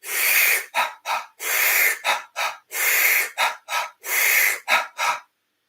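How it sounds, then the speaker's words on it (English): A person does reverse Sufi breathing in four close, loud cycles. Each cycle is one long drawn-in breath followed by two quick, punchy exhales, and the breathing stops abruptly at the end. "So it'll be a big inhale like we just done, and then a double exhale."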